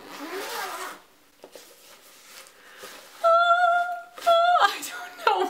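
A zipper being drawn open on a padded Flight ukulele gig bag, several quick rasping zips up close, the last burst loudest, after a quieter stretch of handling.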